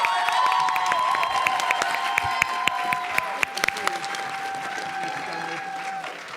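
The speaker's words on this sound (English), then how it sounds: "Let's give them a big round of applause." An audience at a school academy presentation claps steadily with light cheering, a dense patter of applause that fades slightly toward the end.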